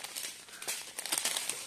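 Faint, close crinkling of a small plastic bag of diamond painting beads being handled, with irregular soft rustles that get busier toward the end.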